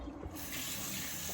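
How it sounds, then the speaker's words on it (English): Water from a kitchen tap runs steadily as raw shrimp are rinsed under it, a close, continuous hiss that swells after the first moment, with no voices. "I'm gonna rinse them"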